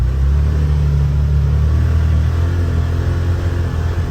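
A 2023 Can-Am Defender HD10 XMR side-by-side ploughing through deep snow, its engine a loud, steady low rumble heard from on board, with no voices.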